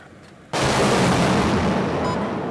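A multiple launch rocket system fires during gunnery training, a sudden loud blast followed by a sustained roaring rush of rockets launching, continuing without pause to the end.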